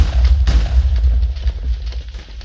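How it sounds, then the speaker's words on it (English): Fireball explosions in the BedWars video game, a steady run of deep rumbling booms and bursts with a stronger blast near the start, loud and continuous throughout. "See the amount of the explosions that I executed over there with the fireballs."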